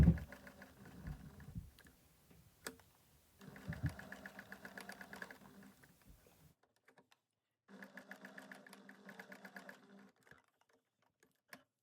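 An embroidery machine stitches a felted lampshade in several runs of rapid, even ticking and whirring, broken by pauses and a near-silent gap, heard up close.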